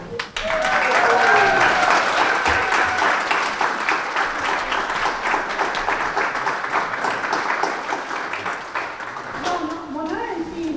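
Audience applause at a mixed choir's anniversary concert in Olustvere rises quickly and holds as a broad wash of clapping, with voices speaking over it and fading toward the end.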